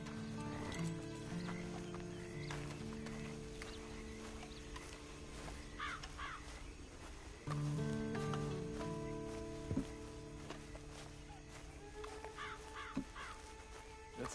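Horse in the Red Dead Online video game, hooves clip-clopping at a walk with an occasional whinny, crows cawing in the background, moderately close and fairly quiet.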